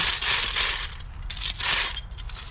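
A paint brush spinner whirls a brush after a dip, giving a rapid mechanical ratcheting whir in two close swelling bursts, loud and near with no speech.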